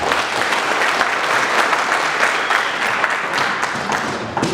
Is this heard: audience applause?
yes